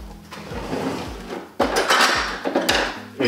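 A spatula scrapes very liquid Hachiya persimmon flesh in rough, wet strokes, with a few sharper scrapes and knocks close by.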